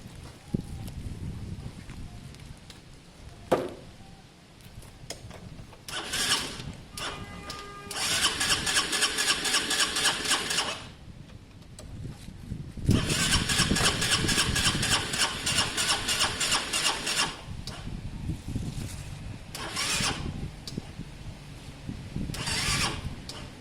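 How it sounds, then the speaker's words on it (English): Honda CB250 motorcycle engine being cranked over in a bobber project build, with repeated long starter-motor bursts and brief sputtering between them, close and fairly loud with no talking. "let's just turn it over for now and see what happens"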